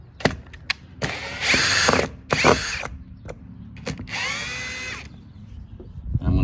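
Short power-drill bursts back out screws from a car's window crank handle, several separate whirs with quieter pauses between them and small clicks.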